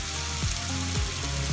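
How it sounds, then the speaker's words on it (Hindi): Chopped garlic, ginger and cumin sauté in hot oil over medium-high heat, giving a close, continuous hissing sizzle with a couple of faint stirring movements, all in a brief burst. "ऑयल डालने के बाद हम इसमें अपना ये चॉप लहसुन अदरक और जीरा डाल देंगे। इसको थोड़ा सा सौते करेंगे।"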